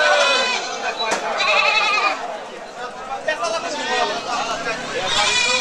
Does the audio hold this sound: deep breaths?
no